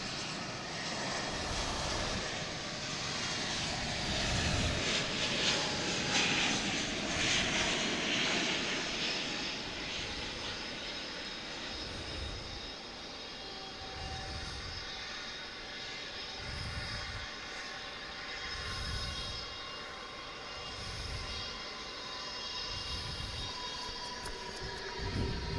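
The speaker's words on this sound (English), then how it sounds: "Got the big 777 coming in from Honolulu." A Boeing 777 airliner inbound from Honolulu lands at DFW airport, its engines a steady, broad roar that holds loud and continuous throughout, with a faint rhythmic pulsing beneath and no voices.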